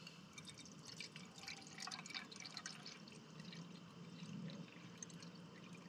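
Water trickling and dripping into a measuring container on a fall hike at Moreau Lake State Park, faint and continuous with small splashes and no talk over it.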